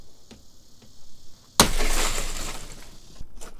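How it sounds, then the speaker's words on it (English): Car side window glass on a locked junkyard vehicle smashed open with one sudden loud crash, followed by about a second and a half of crumbling, tinkling shards settling, with faint ticks before the impact. "We're gonna have to bust a window out to get in this one."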